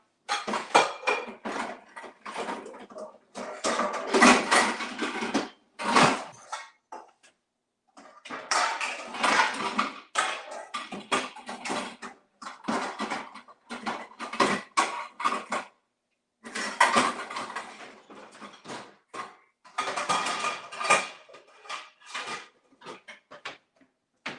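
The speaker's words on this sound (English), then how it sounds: "So let me get my cake pan out." A metal cake pan being taken out in a home kitchen while other pans clatter, heard as bursts of close metallic banging and scraping separated by short silences.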